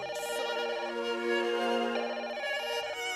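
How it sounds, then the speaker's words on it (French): A telephone rings with a melodic electronic ringtone, repeating a bright, pulsing tone pattern loudly and steadily for a few seconds, no voices over it. "et puis le téléphone qui sonne"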